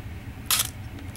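A Canon AE-1 Program film camera fires its shutter once with the back open, a single short, crisp mechanical clack close by, followed by a faint click and quiet.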